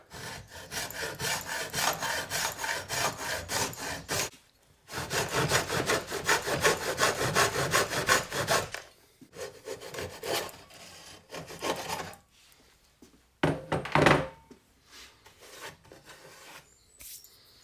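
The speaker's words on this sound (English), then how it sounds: "I'm going to use this fine-toothed hacksaw to" A fine-toothed hacksaw cuts pieces off a battery box for a custom BMW R80 motorcycle build. It rasps in close, rhythmic runs of back-and-forth strokes, broken by short pauses and a final few quick strokes.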